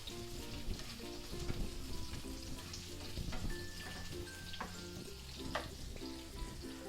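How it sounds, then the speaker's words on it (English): Onions frying in a pan for king prawn stir-fried noodles, giving a steady, dense sizzle with scattered crackles and pops throughout, close and continuous with no speech. "So onions are cooking."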